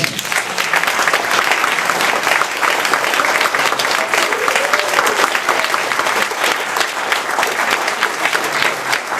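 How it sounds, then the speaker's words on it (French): Audience applause at the closing ceremony of the Échappées Théâtrales 2022 theatre festival in Noisy-le-Roi and Bailly: dense, steady clapping from a sizeable crowd, loud and sustained throughout. "Je crois qu'on peut les applaudir."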